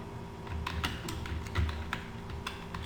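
Steady typing on a computer keyboard, entering a stock item name in Tally Prime accounting software: a rapid, uneven run of close, crisp key clicks over a faint background hum, no talking.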